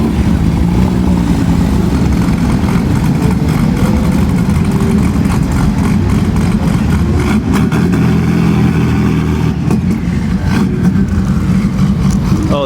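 Porsche cars, including RWB builds, pull away from a Chicago car show with a steady, loud engine rumble and some revving close by, while people chat over the noise.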